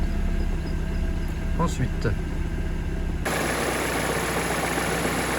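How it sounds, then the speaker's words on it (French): A Peugeot 207 VTi engine idles with a steady low rumble throughout after an accessory belt job, a few brief clicks partway through, and a person speaks briefly over it. "du coup le moteur il tourne beaucoup mieux."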